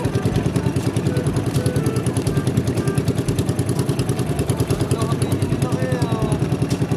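A motorcycle engine idles with a steady, dense low rumble and rhythmic clatter throughout, under voices at a lively wedding gathering.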